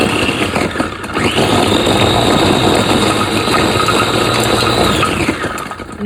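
An Agaro 3-in-1 electric chopping machine peels garlic, its motor whirring loudly and steadily for several seconds with a rattling, buzzing tone from the cloves tumbling inside, close up and without talk.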